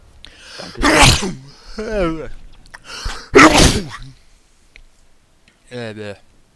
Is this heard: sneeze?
yes